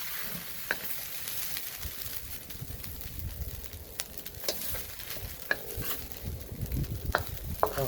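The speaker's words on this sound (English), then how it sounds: "to get all the clumps out from the rice" Garlic fried rice is stirred and broken up with a spatula on a hibachi griddle, giving a continuous close sizzle punctuated by sharp metallic scrapes and taps at irregular intervals, with no talking.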